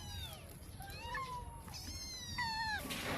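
A kitten meows several times in thin, rising and falling cries, fairly close, over a faint background hum.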